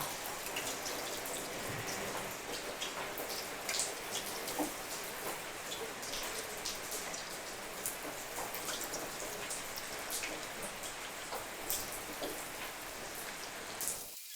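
Chicken pieces fry in hot oil over a low-medium flame for crispy garlic chicken, giving a steady, even sizzle with scattered small pops, close and continuous.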